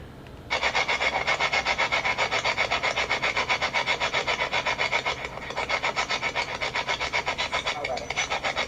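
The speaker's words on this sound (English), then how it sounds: "this was one of my better captures with the spirit box" Rapid, choppy bursts of harsh static from a spirit box radio sweep continuously at a steady pulsing rhythm, loud and close, with no clear voices.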